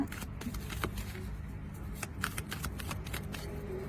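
A deck of tarot cards is shuffled by hand at close range, giving quiet, quick riffling and soft slapping bursts with no voices.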